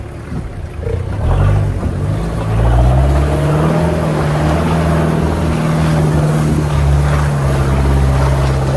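Military tank engine droning low and steady while driving on a winter course, loud and close with a deep rumbling rise around the midpoint and no talk over it.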